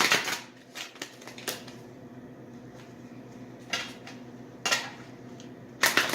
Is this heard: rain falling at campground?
no